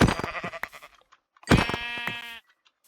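Two loud, close sheep bleats in Minecraft, the first short and the second longer and wavering, separated by a brief silence.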